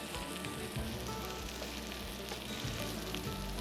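Chopped onion frying in a pan for a stuffed squid dish, a steady close crackling sizzle that runs unbroken throughout with no talking.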